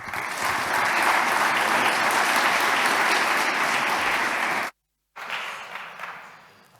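A conference audience breaks into loud, sustained applause to welcome keynote speaker Jonathan Corbet in Budapest. The dense clapping holds steady for several seconds, cuts off abruptly, then resumes more faintly and tapers away.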